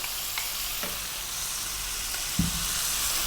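Chopped plum tomatoes and chili sizzle in a pan for hot dog spaghetti sauce over above-medium heat, a soft continuous frying hiss with a few stirring clinks and one louder scrape near the end.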